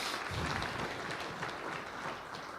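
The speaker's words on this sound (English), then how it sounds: "one last time for Mr. S.K. Mishra, a big round of applause." Audience applause at an award function, a steady wash of clapping from a crowd in a hall that holds fairly even across the whole stretch, at moderate volume, with no talk over it.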